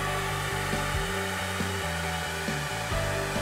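A heat gun blows steadily and close while vinyl wrap is heated and pressed into a deep channel, its airflow a constant roar with small shifts in pitch and no talking.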